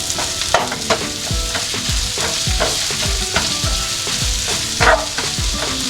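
Sliced onion fries in a pan with garlic and ginger for South Indian roast beef, a loud continuous sizzle broken by repeated stirring scrapes and clatters in an uneven rhythm.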